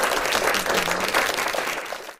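A small group claps for a few seconds on a casual podcast, a steady burst of applause that tapers off at the end.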